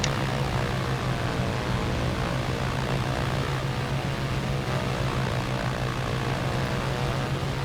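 Propeller aircraft engine droning steadily at high power during a takeoff roll in a flight simulation game, a constant loud hum with a strong low tone and no voices.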